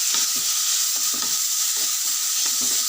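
Onions, tomatoes, curry leaves and green chilies frying in a pan, a loud close dense sizzle with rhythmic stirring scrapes and no voices.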